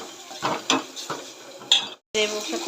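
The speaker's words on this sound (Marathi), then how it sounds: "याला दोन मिनटं तेलात फिरून घ्यायचं व्यवस्थित" Thick paste sizzles softly in oil while a spoon scrapes and stirs the pan in irregular strokes, close up, with a brief silent gap near the end.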